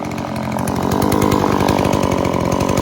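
A Husqvarna 128LD brush cutter fitted with a spinning blade runs at high revs, a loud, steady, close two-stroke whine with a buzzing rattle throughout and no talking.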